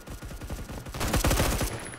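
Rapid automatic gunfire in the video game Phantom Forces as a teammate gets shot, a fast rhythmic string of close shots in quick bursts that fades out near the end.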